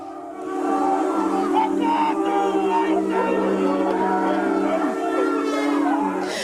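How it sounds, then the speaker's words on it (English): Ngāpuhi performers deliver a haka at Waitangi, many voices chanting together in loud, sustained, rhythmic cries with strong harmonic tone, delivered close and forceful over several seconds. "Instead of a waiata to support their speaker's message, Ngāpuhi chose a haka."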